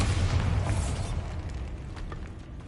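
A Bombarda explosion spell in Hogwarts Legacy sets off a low, rumbling boom that swells at the start and slowly fades over a few seconds.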